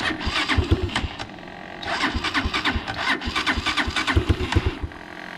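An ATV engine, cold and on choke, cranks repeatedly with rapid chugging bursts, catching briefly then sputtering, in two cranking attempts close by, with no clear speech.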